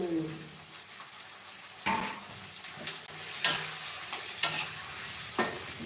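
Onion and tomato fry in a pan for a mushroom gravy, a steady sizzle broken by several loud stirring scrapes, close and without talk.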